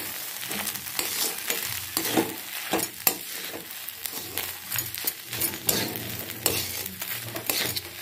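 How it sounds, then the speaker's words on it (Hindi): Turmeric, chili, cumin, coriander and garam masala powders being stirred in a frying pan, with a steady sizzle under repeated scraping strokes, close and moderately loud with no talking. "एबे मु सब को भल भाव गोल देवी"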